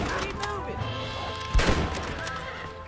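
A single sharp gunshot cracks out in the Western video game Red Dead Redemption, during a hunt with horses and a dog. It stands out briefly midway over a low background of game ambience.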